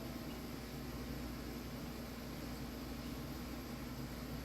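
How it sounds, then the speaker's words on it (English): An air conditioner runs in a room, giving a steady, even broadband hum with low-frequency drone that holds constant throughout, with no speech over it. "That's my AC you guys hearing in the back."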